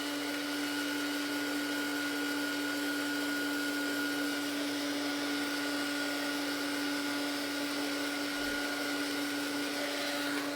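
A handheld drying tool blows over paint on an art journal birthday card, a steady droning motor whine with a constant hum, moderately loud and unbroken, no speech.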